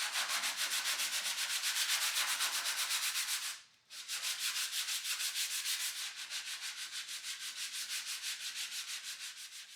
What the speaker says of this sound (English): I just got a sanding block in here, a rubber block.